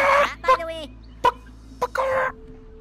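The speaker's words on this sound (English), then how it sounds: "Why are they making chicken noise?" Chicken-like clucks and squawks come from the Worms W.M.D. video game during a five-team multiplayer match, a few short bursts separated by quiet gaps, with brief clicks between them.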